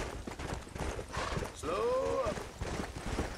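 Horse in the video game Red Dead Redemption clip-clopping along with its hooves, a steady rhythm of close hoofbeats, broken midway by a clear whinny, while someone talks over it.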